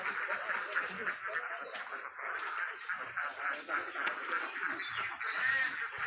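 Meat ducks, about a thousand herding ducks at a poultry farm, quack and honk in a continuous, fairly distant flock chatter, with a voice talking faintly underneath.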